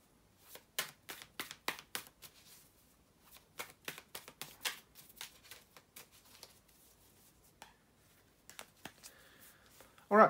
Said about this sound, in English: bear just with me, guys, for a second here to shuffle the tarot cards